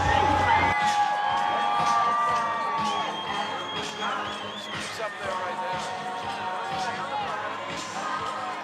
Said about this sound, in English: See the crowd? I have seen the crowd. It's a big crowd.